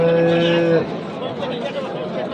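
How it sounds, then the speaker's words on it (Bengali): A Sahiwal bull moos once, a short harmonic call that fades after a moment into a busy background of murmuring voices and outdoor noise at a cattle market. "এটাও সাহেব আলী ভাই গরু।"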